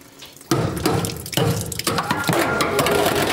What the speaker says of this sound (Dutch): Wat is dat nu voor een flauw kraan?